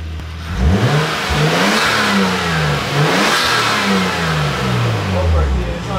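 A Nissan Skyline R34 or S13 engine revs up hard several times, rising and falling in pitch, loud and close, with a voice briefly audible.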